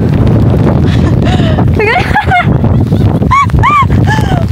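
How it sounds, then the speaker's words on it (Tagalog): Loud wind roars against the microphone while a dog whimpers and yips in high, rising cries, with people talking nearby. "ang lakas ng hangin dito"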